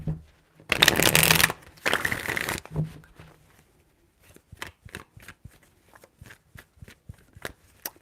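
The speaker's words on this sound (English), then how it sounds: "Three shuffles." Tarot cards shuffled by hand: two long riffling bursts close to the microphone, then a run of quick, crisp card taps and slaps.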